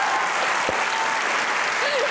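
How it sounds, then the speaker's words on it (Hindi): Studio audience applause on a Pakistani comedy talk show, a steady, dense wash of clapping filling the whole moment at even loudness, with a brief voice fragment near the end. "तालियां बजाइए हमने।"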